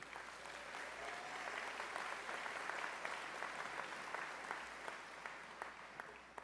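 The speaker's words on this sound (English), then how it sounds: "So give him a resounding applause." A large audience at a 2015 commencement ceremony applauds steadily and loudly throughout, dense clapping from a big crowd with no break.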